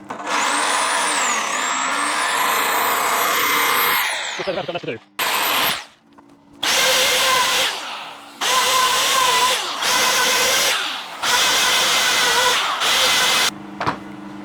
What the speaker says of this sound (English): we're going to start removing a bit more of the bulk with the jigsaw